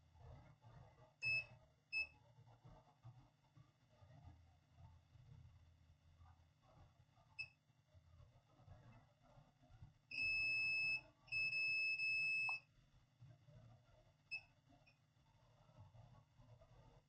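Short electronic beeps from a multimeter on continuity test while probing a circuit board capacitor: two quick chirps, a few isolated blips, then two longer sustained tones mid-clip, over faint background hum, no talking.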